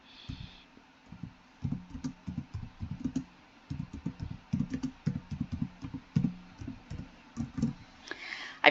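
Typing a question into a Zoom chat on a computer keyboard, a close, rapid run of crisp key clicks in uneven bursts lasting several seconds, with no voices.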